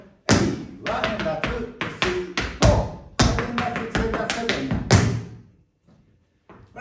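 Tap shoes strike a hard floor in a beginner Broadway-style routine of shuffles mixed with heel drops, a close, loud run of crisp rhythmic taps and thuds in two phrases before a brief quiet ending.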